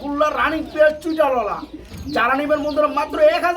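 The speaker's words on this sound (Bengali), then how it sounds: "অরিজিনাল বিগ সাইজের বাগদাদি হুমা কবুতর" Big Baghdadi Huma pigeons, red in colour, coo repeatedly in soft rolling calls, close and fairly loud, with overlapping birds and background chatter from a pigeon market.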